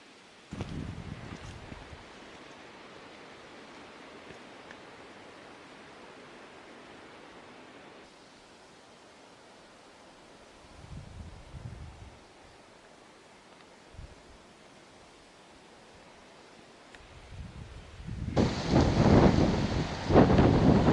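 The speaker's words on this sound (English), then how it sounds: "It's a bit blustery up here on Oberg." Wind gusting on Oberg Mountain, a low steady rush broken by several heavy buffeting blasts, building to a loud, roaring gust at the end with no talking.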